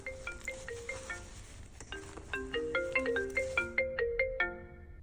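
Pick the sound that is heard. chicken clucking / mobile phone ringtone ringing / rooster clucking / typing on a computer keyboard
mobile phone ringtone ringing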